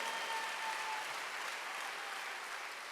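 Steady applause from a church congregation during a Sunday worship service, a dense even patter of clapping that holds at the same level throughout.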